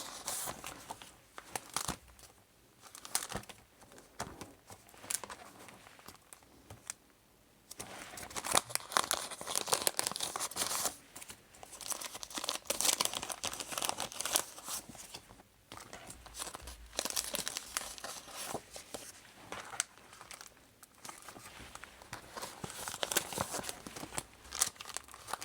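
Sheets of stickers being handled up close, with soft, steady crinkling and rustling of paper and plastic backing, gentle crackles and brief tearing sounds coming and going, quiet and with no talk.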